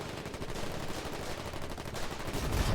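Gunfire in the war game Foxhole, a dense, continuous crackle of machine-gun and rifle shots, loud and steady throughout with heavier thumps near the end.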